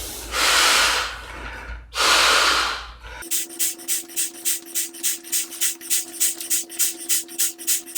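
Two long, forceful breaths are blown into a Sea to Summit Ether Light XT sleeping pad, close and loud, followed by a quicker run of short, rhythmic puffs.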